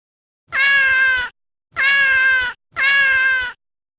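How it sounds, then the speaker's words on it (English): Three clear cat meows in steady succession, each lasting under a second with short pauses between, close and loud with no other sounds around them. "What sound does a cat make?"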